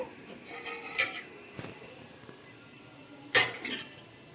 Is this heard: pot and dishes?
yes